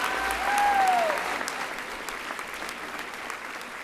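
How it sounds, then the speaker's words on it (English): A school audience applauds student leaders at a senior prizegiving. Warm, sustained clapping from a large crowd fills the hall, then gradually tapers off. "so that would be great if you clapped them"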